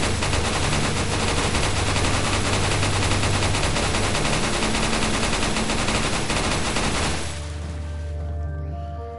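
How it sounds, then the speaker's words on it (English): Rapid, dense gunfire in Resident Evil 4, shooting at fish in a lake, a loud continuous barrage of shots that cuts off near the end, leaving a quieter ambient tail. "you can shoot all the fish in the lake"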